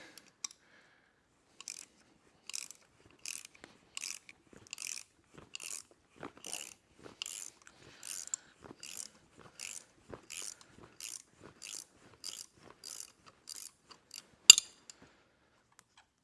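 A ratchet clicks in quick, regular bursts, snugging the bracket bolts back up on a 1949 Willys truck. Close, crisp ratcheting strokes repeat about twenty times, with a sharper clank near the end, in an otherwise quiet space.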